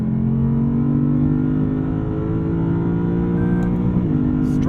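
A 2021 Lexus RC F Fuji Edition V8 revs hard toward its 7,200 RPM redline, a loud, dense engine roar rising steadily before a quick drop at a shift and renewed climb.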